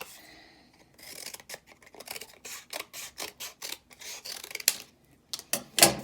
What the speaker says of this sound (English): This is just a piece of a Diet Coke box. And I am gonna cut just some simple strips.